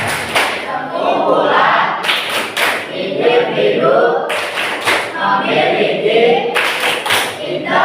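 A class group claps together in rhythmic patterned bursts, loud and close, while voices chant along in Indonesian between the claps.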